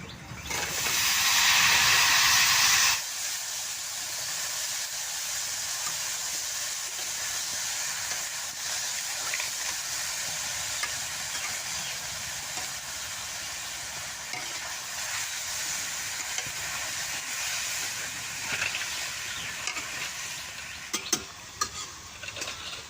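Eggplant frying in a pan for a neem-leaf dish, a loud hiss at first as it hits the oil, then a steady quieter sizzle with occasional stirring and scraping near the end.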